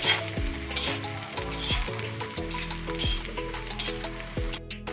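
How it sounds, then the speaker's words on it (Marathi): Finely chopped green chilies frying in a pan for a safflower-leaf vegetable dish, a steady close sizzle with repeated rhythmic scraping and tapping of a spoon stirring against the pan. "आपण त्यात आता बारीक चिरलेली मिरची घातलेली आहे"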